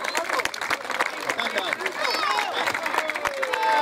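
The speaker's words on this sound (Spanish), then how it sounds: "Aplauso para el 12. Aplauso, aplauso, muchachos." Crowd at a sports awards ceremony breaking into applause, with scattered clapping mixed with cheers, chatter and a voice over it, moderately close and continuous throughout.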